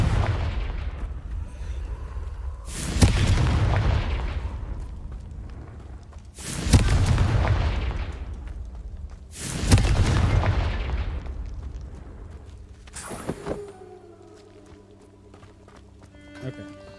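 Fire spell explosions in the Hogwarts Legacy video game, three loud booming blasts a few seconds apart, each trailing off in a rumbling roar, followed by a smaller crackling burst and game ambience.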